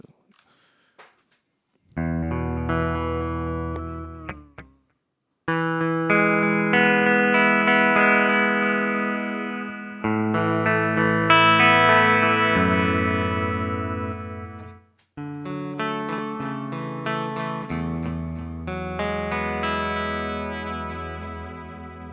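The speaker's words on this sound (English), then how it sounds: "here's just one of the delay sounds." Sustained distorted electric guitar chords through a Strymon DIG delay pedal and DMB Stellar Drive ring out with repeating echoes trailing behind, several phrases separated by short pauses, loud and close.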